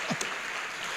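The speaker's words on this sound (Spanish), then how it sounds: "Dale un aplauso al Señor, por favor" A church congregation applauds together, a faint, dense wash of clapping heard from a distance with no distinct individual claps.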